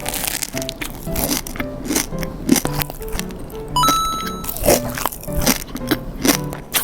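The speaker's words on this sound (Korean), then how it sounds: "되게 바삭한 크루아상에 겉에는 초코 코팅이 되어 있고" Repeated crisp crunching bites into a large chocolate-coated croissant filled with pistachio spread and crunchy kataifi, close to the ear, with crackling flakes and a few brief clicks between bites.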